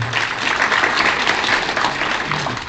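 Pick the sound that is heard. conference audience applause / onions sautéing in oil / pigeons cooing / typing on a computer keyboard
conference audience applause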